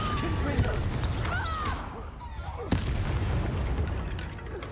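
Confringo spell explosions in the Hogwarts Legacy video game, with dense booming blasts and crackling bursts from combat filling the scene, a sharp impact standing out midway, and voices talking over the din.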